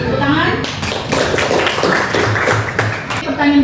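Students in a classroom break into brisk clapping that starts in a burst and carries on as a close, fairly loud patter, with a voice and other speech mixed in under it.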